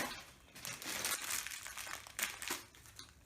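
Funko mystery figure packaging from the Inside Out series being torn and crinkled open, a close, busy run of rustling and crumpling bursts with no talk.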